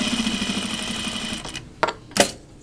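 A sewing machine runs steadily along a fabric edge, a close, continuous whirring hum for about a second and a half, followed by a few sharp clicks and clunks as it stops.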